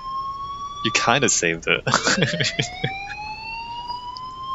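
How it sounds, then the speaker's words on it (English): Fire alarm in the Life is Strange video game: a steady high electronic tone holds and slowly rises in pitch across the clip, loud and continuous, with a person talking over it at the start. "now there's a fire alarm"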